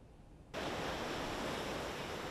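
Waves wash onto Maehara beach in Minami-Kyushu, a faint, steady roar of surf that starts suddenly and keeps going evenly, with no voices.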